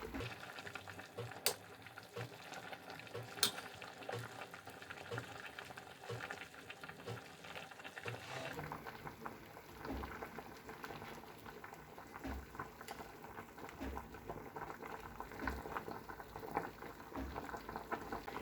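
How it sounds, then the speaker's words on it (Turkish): A thick rosehip jam bubbles and pops steadily in a pot, close and fairly quiet, with small irregular splutters throughout. "Çok güzel kaynıyor."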